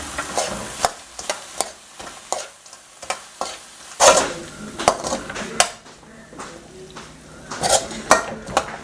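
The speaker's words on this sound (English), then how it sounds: "we're gonna put the fried pork belly." Fried pork belly tossed into a pan for crispy shrimp paste with eggplant, with sharp metallic clinks of a utensil against the pan and stirring over a soft sizzle, close and irregular.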